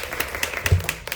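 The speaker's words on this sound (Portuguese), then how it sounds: "Uma salva de palmas para o Tadeu." Scattered hand claps patter in a brief, uneven burst, a small group clapping at moderate volume.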